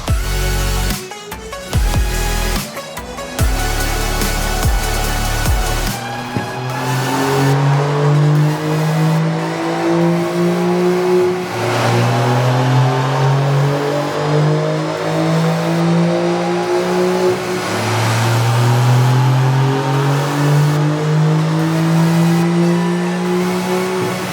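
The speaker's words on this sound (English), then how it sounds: "I have my 992 4S already on the dyno, ready to go. Let's do some baselines to see where we're starting." A Porsche 992 Carrera 4S on a dyno revs hard in repeated rising pulls, the engine note climbing loudly and steadily with a brief sharp burst at the start, no voices over it.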